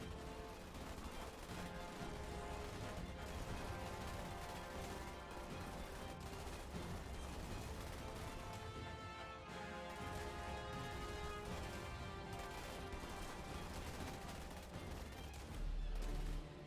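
Sniper gunfire at bugs in Starship Troopers Terran Command, dense overlapping shots and bursts rattling continuously over a busy battle mix, with a louder hit near the end.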